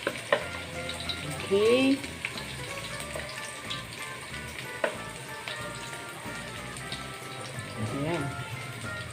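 Garlic and onion sizzle steadily in a hot pan, a continuous close frying hiss with occasional clanks of stirring, while a person talks briefly over it.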